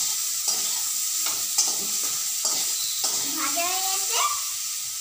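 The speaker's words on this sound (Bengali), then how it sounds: "তো আলু আর ঝিঙেটা ভালো করে ভাজা হয়ে যাক" Potato and ridge gourd slices fry in hot oil and are stirred in rhythmic scraping strokes, with a steady sizzle underneath and a brief voice speaking near the end.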